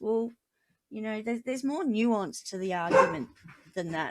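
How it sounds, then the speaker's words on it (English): Dogs bark indoors in short bursts behind a person talking, the barks close and mixed under steady speech. "Sorry about the dogs."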